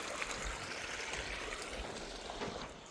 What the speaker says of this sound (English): Everywhere you go, just little waterfalls.